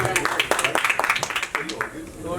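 A studio audience at an interview with the Mere Husband Ki Biwi cast claps in quick, even rhythm, then fades toward the end, mixed with people talking.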